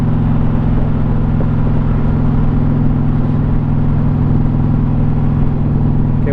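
Indian Challenger motorcycle engine droning steadily at cruising speed, a loud continuous low rumble with wind noise layered on top, heard from the rider's position with no pauses.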